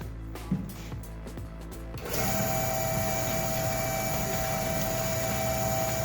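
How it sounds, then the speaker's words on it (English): A homemade squirrel husker machine starts up after a few light clicks and knocks, settling into a steady, loud mechanical hum and whine that runs on evenly. "First, we're gonna fire up the husker."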